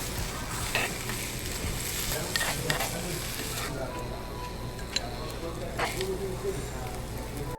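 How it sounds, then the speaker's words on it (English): Stone hot pot of Wagyu rice sizzling steadily at a Sichuan hot pot restaurant, a continuous crackling hiss close by, with a few sharp ticks and clinks and a busy restaurant murmur behind. "Listen to that sizzle."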